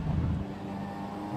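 Car engine and chassis sounds in the racing game Assetto Corsa EVO: a steady low engine drone with a louder throaty rumble in the first half-second, settling into an even hum with no talk.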